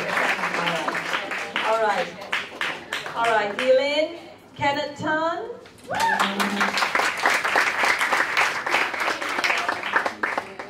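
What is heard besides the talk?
round of applause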